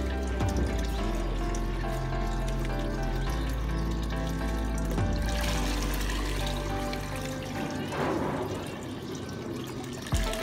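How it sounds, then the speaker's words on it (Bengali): Water is poured and mixed into pigeon feed, giving a continuous sloshing, trickling sound over a steady low hum, with a louder splash near the end. "আমরা এখন কবুতর খাবারটা মিশাবে, পানিটা মিশিয়ে রাজীব পানি দিবে"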